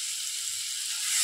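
One large, finely chopped onion sizzles in a pan with a brief, steady, hissing fry heard up close.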